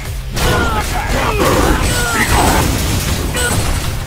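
A loud, rumbling proton cannon blast fills the clip in Marvel vs. Capcom: Infinite, a sustained booming roar with crackling bursts.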